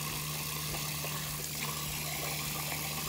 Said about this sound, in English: Just turning on the water.